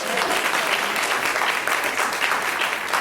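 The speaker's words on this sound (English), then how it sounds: "Please give her a round of applause." A crowd at a political forum on choosing leaders applauds the Honorable Dr. Shirley Weber, chair of the California Legislative Black Caucus, with a thick, continuous wash of clapping that holds loud and even throughout.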